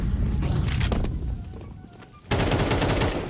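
Gunfire in Counter-Strike 2: dense bursts of rapid shots with clattering impacts, a brief lull with faint game sounds, then another loud burst of firing close up.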